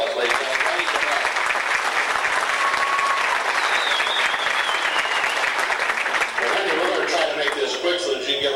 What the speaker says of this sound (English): Give a nice round of applause, ladies and gentlemen.